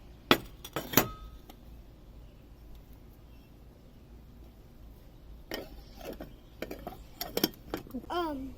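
Masalas being mixed in tiny miniature Indian cookware: light metallic clinks and taps, a couple at the start and a quicker cluster of scrapes later, close and fairly quiet, with a voice briefly audible near the end.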